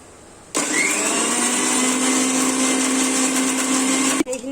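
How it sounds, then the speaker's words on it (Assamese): A kitchen mixer grinder jar whirs loudly as it grinds garlic cloves, a piece of ginger and green chilies into a paste, starting abruptly and running steadily for several seconds before cutting off. "এয়া মিক্সিৰ জাৰটোত এই নহৰু কেইফুটা দি দিলো"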